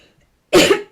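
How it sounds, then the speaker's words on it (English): One sharp, loud cough bursts out close to the microphone after a moment of near silence, with a short rough tail. "Flipping cough."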